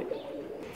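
A Pakistani pigeon gives a brief, soft coo, close by and low-pitched, lasting under a second with no voices over it.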